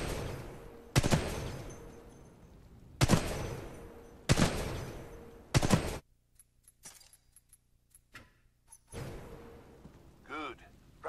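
Gunfire in Titanfall 2's training course as shots hit practice targets: several loud bursts of rapid weapon fire separated by pauses, followed by a quieter stretch of clinks, mechanical handling sounds and a short whooshing effect.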